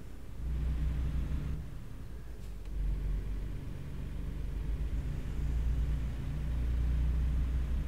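A Freightliner Cascadia hauling double trailers in American Truck Simulator rumbles steadily at a low pitch, its engine drone filling the scene with slight swells in loudness and no voices over it.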